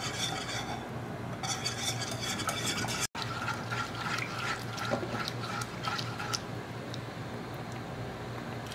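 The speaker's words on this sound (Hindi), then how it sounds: "अब ये ज़रा बस इसको हिलाते जाइए, नीचे ना लगे" A spoon scrapes and swishes through chocolate cake batter mixed with milk in a pot on the stove, making soft repeated stirring strokes and light metallic clinks at a quiet, steady pace.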